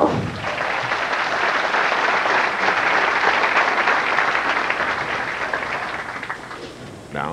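An arena crowd at a 1993 professional bowling tournament, the PBA Phoenix Open, applauds steadily and loudly for several seconds, the clapping gradually fading near the end.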